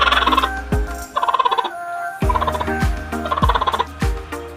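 A Bengala hen gives repeated angry, rapid gobbling calls in several loud bursts while eggs are set under her, heard close up with no talking.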